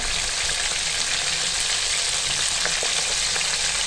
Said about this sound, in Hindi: ये देखें, ज़बरदस्त लुक आ रही है, अच्छी तरह फ्राई हो रहे हैं